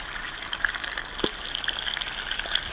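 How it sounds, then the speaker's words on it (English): Bacon sizzling over medium-low heat in a pan outdoors, giving a faint, continuous crackle with scattered pops and a soft spatter throughout. "Who don't like to hear the sound of bacon cooking?"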